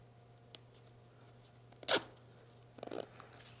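A zipper pull rasps briefly along its chain, one quick zip followed by a second softer, stuttering slide, close by in a quiet room.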